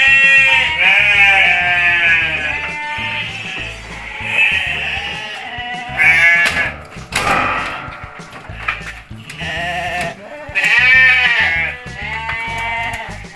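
Texel sheep at a farm bleat repeatedly, loud and close, several overlapping wavering calls in a steady run.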